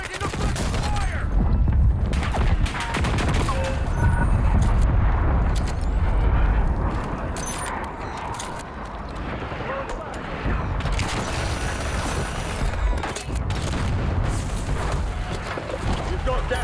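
Dense bursts of automatic gunfire and explosions crackle through a Call of Duty Warzone match on Rebirth Island, loud and nearly continuous, with game voice callouts over the shooting.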